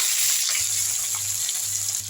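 Dried red chillies, spices and onions fry in hot oil for sambar, with a continuous, fairly close crackling hiss and a faint low hum beneath it.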